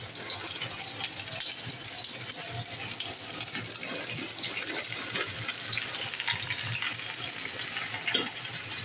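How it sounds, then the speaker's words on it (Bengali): Peeled mango pieces for a sweet pickle slide into hot oil, giving a steady, close sizzling hiss that runs unbroken from start to finish with no voices. "এবার আমার তেলটা গরম হয়ে গেছে, এবার আস্তে আস্তে আমগুলো ছেড়ে দেবো এর মধ্যে"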